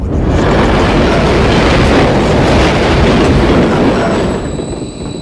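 A train rushes along its rails in Call of Duty Modern Warfare 3, a loud dense roar of wheels and clatter that holds steady for about four seconds and then eases slightly, with no voices.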